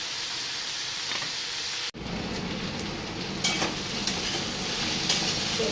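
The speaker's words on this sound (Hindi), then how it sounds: "थोड़े से मूली और आलू ब्राउन हो चुके थे, इसे थोड़ा सा ब्राउन करूँगी 1-2 मिनट" Radish, potato and eggplant browning in a pan give off a steady, close sizzle. A sharp break comes near two seconds, then the frying turns louder and hissier, with the scrape of stirring now and then. No one speaks.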